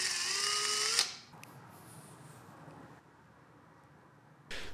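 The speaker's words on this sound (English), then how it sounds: "I put a drill bit backwards in my cordless drill" A cordless drill spins a backwards-mounted drill bit with washers glued on for polishing, whirring loudly and briefly with rising pitch for about a second before stopping. Quiet room noise follows, and a sharp burst of sound comes at the end.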